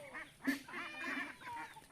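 Young ducks, 57 days old, quack and honk softly nearby, several short nasal calls overlapping at a low, fairly quiet level.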